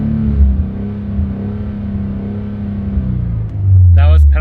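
A widebody Scion FR-S engine revs hard with the pedal floored, holding a loud steady drone against a 4,500 RPM limiter before dropping and surging again.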